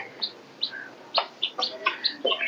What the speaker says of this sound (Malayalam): ഇത് എന്തോ ഒരു കോഴിയല്ലേ